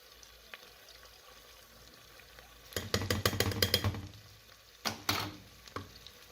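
Ingredients being stirred in a pot while cooking maqluba, a burst of scraping, sizzling stir strokes in the middle followed by a couple more short stirs, over a quiet kitchen background.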